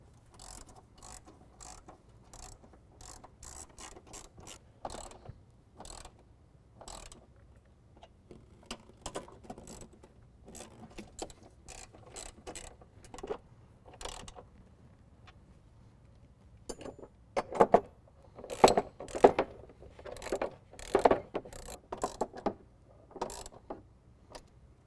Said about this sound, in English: we're going to take a 13mm and tighten them all down